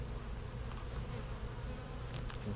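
Honeybees buzz around an open hive as a honey super is added, a dense, continuous drone heard close and steady with no talking.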